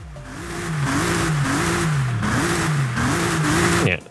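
A car's standard engine revs repeatedly in the video game Forza Horizon 5, pitch climbing and falling in several surges, loud and close with no talking.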